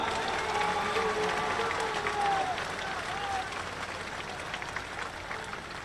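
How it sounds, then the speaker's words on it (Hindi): A large election rally crowd at INTUC ground in Gwalior claps steadily and densely throughout, a loud wash of applause with a few brief tonal lines overhead, thinning slightly toward the end. "मुझे तो ग्वालियर की ताली सुनाओ।"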